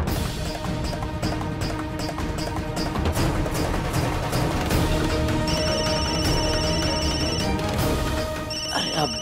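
A telephone rings over and over in a steady repeating ring pattern through the whole stretch, loud and close, with background music beneath it.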